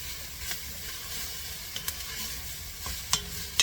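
Onions sautéing in a very hot pan give a steady broadband sizzle, with a few brief stirring clicks and scrapes along the way and no talk.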